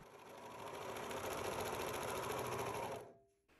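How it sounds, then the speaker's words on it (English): A serger whirs fast and steady, sewing a string onto the face opening of a fabric bonnet, close and fairly quiet, then stops abruptly near the end. "Serge or sew around this opening, attaching the string to the face opening on the bonnet."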